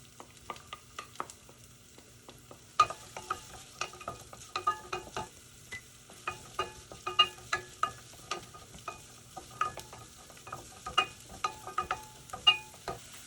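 Chopped garlic fries with diced onion in a hot pan. A steady soft sizzle runs under frequent sharp clicks and scrapes of a utensil being stirred, with no voices.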